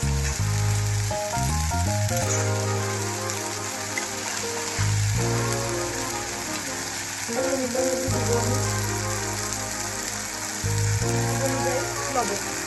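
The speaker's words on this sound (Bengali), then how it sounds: "একটু ভাজা ভাজা হোক।" Spice masala frying in a pan while cooking chola paneer, giving a steady, continuous sizzle under prominent background music.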